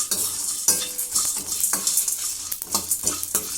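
Spices and almonds dry roasting in a kadai, with quick scraping strokes of a spatula against the metal pan over a light sizzle, close and rhythmic, no voices.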